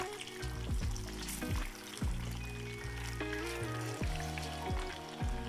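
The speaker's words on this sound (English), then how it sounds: "Now I'm just gonna let these fry until they're golden brown on both sides" Ganmodoki tofu meatballs deep-frying in a pot of oil, a steady bubbling sizzle punctuated by repeated knocking clinks of utensils against the pot.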